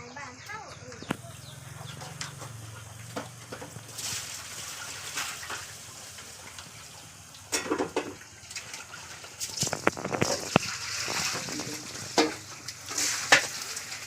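Crickets cook in a pan as the water boils off, a steady close sizzle and crackle punctuated by stirring clatter, while someone talks over it.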